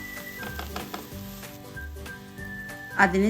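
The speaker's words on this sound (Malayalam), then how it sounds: "ഇനി ക്യാപ്സിക്കം ഒന്ന് ചെറുതായിട്ട് വയറ്റിയെടുക്കാം" Capsicum sautéing in a pan with chopped vegetables: a steady close sizzle runs throughout, with occasional stirring scrapes and a louder clatter near the end.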